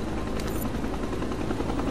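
Helicopter in the video game Resident Evil 4, a steady whirring rotor and engine drone that fills the whole stretch at an even level, close and loud with no talking over it.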